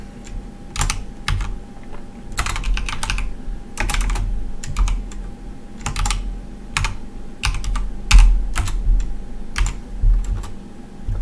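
Steady, fast typing on a computer keyboard, with dense clusters of crisp key clicks and occasional heavier strokes over a low background hum, close and alone with no talking.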